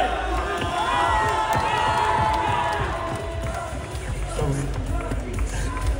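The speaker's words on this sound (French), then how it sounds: "On peut l'applaudir" Audience cheering and clapping at a cosplay parade during a Japan otaku festival in Troyes, a lively crowd roar with shouts and scattered claps continuing steadily throughout.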